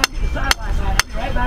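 Three sharp hammer blows land at an even half-second pace on a basketball court construction site, loud and close, with a faint background hum between strikes.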